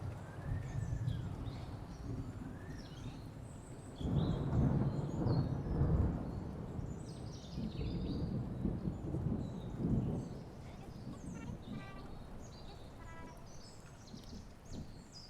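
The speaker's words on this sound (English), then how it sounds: "Got some nice rain noises in my game." Rain and rumbling thunder in a video game, a low rolling rumble that swells for several seconds over a steady hiss, with faint bird-like chirps above it and no talk.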